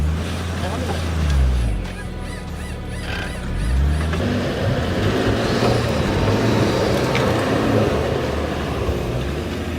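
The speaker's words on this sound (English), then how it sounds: "I'm just going to engage the recovery mode, and the car will just rock itself out of this pickle" A Mercedes-Benz GLE-Class SUV rocks itself free in recovery mode, its engine rising and falling in repeated surges with a steady rumble of tires and drivetrain, close and fairly loud.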